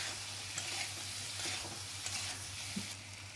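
Spices with turmeric and salt are stirred in a hot, sizzling pan for a Bengali potato and pointed gourd curry, steady frying hiss with soft scraping strokes, close by.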